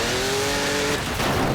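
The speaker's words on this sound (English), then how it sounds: "the Carabo careens off the back of Purple Passion from Propulsion, hits the ground on the front of the car and flops over dead" At a junkyard joust demolition event, the Alpha Carabo car careens off the back of Purple Passion, hits the ground nose-first and flops over; a loud engine roar gives way to a sudden crunching impact and tumbling clatter.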